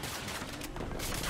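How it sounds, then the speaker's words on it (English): Sustained gunfire from the Battlefield 2042 video game, Breakthrough mode on the Hourglass map, a dense continuous burst of automatic shots rattling throughout at close range with no voices over it. "I'm taking fire."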